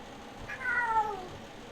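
A cat gives a single drawn-out meow, rising then falling, fairly close and soft over a quiet room.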